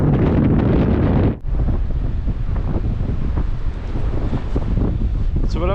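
Strong gusting wind on the River Spey buffets the microphone with loud, rough roaring, briefly dropping out for a moment before pounding on again.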